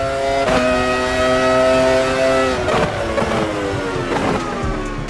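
Michael Schumacher's 2001 Ferrari V10 in the AMS2 racing game: a loud, high-pitched engine scream held at high revs, dipping briefly on several upshifts and revving again. The sound is steady throughout, with no voice.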